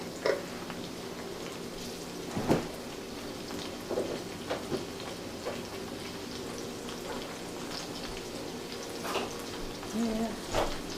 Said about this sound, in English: So we're going to go ahead and saute that on up.